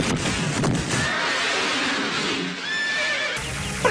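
Cartoon horse gives a loud, drawn-out whinny over clip-clopping hooves, with a brief pause and a fresh burst at the end; no speech.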